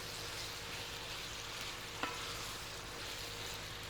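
Spinach wilting down in a hot pan gives a faint, steady sizzle throughout, with one brief clink near the middle and no voices.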